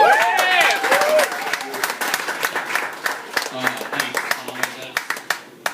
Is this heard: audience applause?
yes